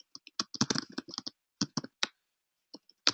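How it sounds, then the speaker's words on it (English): Fingers tap out a message on a computer keyboard: quick bursts of close, crisp keystrokes, then a pause and a few scattered final clicks. "I'm going to start typing here"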